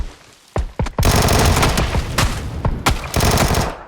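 Gunfire in the battle-royale game PUBG: a few sharp single shots, then sustained loud bursts of rapid automatic fire with a short pause before another long volley.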